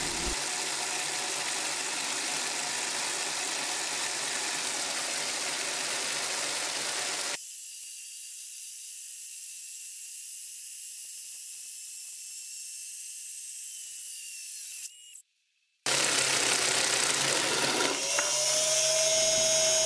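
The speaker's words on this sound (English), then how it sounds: "I tried to measure the speed of how fast the big sprocket turns" A 3D printed sprocket and chain driven by a motor at high speed, around 3000 RPM on the big sprocket, whir and rattle steadily up close, shift to a thinner whine, cut out briefly, then resume loudly.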